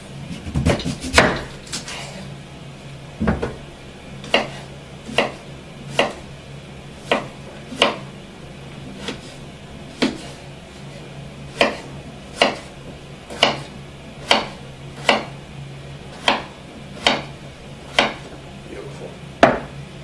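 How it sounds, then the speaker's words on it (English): Knife chopping bananas into pieces on a cutting board for dehydrator chips, a steady series of sharp, evenly spaced thunks about once a second, close and distinct over a faint low hum. "Cut him up, take the ends off. Cut him in half."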